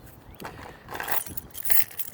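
A heavy keyring loaded with a car key fob, house keys, assorted keys, handcuff keys, a whistle and a small multitool jangles close by in a couple of brief metallic shakes.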